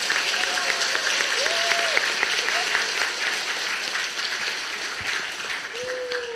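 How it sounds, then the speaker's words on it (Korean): A church congregation gives sustained applause to welcome an elder pastor coming forward to preach, many hands clapping steadily in a reverberant hall, with brief voices rising over the crowd. "목사님 환영하는 박수로 환영하겠습니다"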